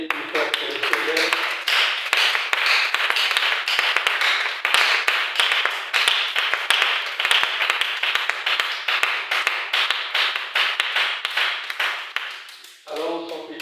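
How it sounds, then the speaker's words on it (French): A church congregation claps and applauds for the Lord in a dense, rapid patter that holds steady for a long stretch, with a voice heard briefly at the start and again as the clapping fades. "Est-ce qu'on peut acclamer plus fort que le Seigneur?"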